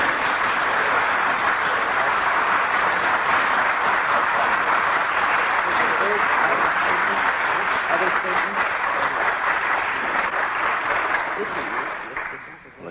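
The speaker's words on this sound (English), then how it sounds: "they've had a nice emotional bath with that applause" An audience breaks into loud, sustained applause, a dense wash of clapping from many hands that holds steady for several seconds before tapering off near the end.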